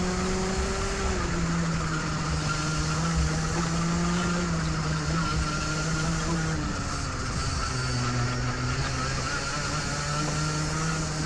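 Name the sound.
race car engine at full throttle through corner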